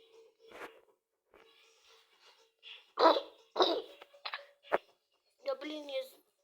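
Coughing in bursts from a person indoors, several harsh close coughs clustered mid-clip between quieter vocal sounds and breaths, with one sharp click near the end.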